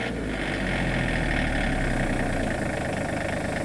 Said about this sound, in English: Go ahead and raise up on the throttle here.